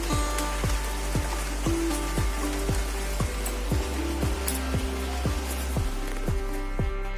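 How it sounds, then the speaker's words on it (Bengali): Continuous monsoon rain pours down as a constant wash of drops, with regular sharp knocks and clinks repeating through it, close by. "এদিকে বৃষ্টি তো হয়েই চলেছে বৃষ্টির কোনো বিরাম নেই বৃষ্টি পড়েই চলেছে দেখো"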